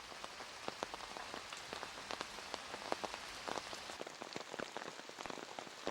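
Heavy rain falls steadily on a disc golf course, a dense close hiss of drops with scattered sharper patters throughout and no voices.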